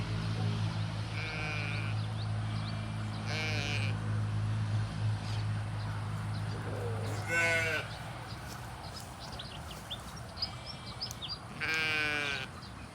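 Sheep and goats on a farm in the evening bleat several times, some calls near and some farther off. A low steady hum runs underneath during the first half.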